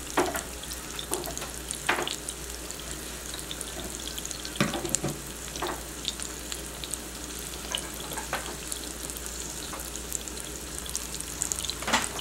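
Parmesan-crusted swai fish frying in a pan, a steady soft sizzle with scattered light clicks and knocks of utensils, fairly quiet and without talk.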